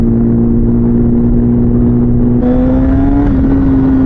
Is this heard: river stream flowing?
no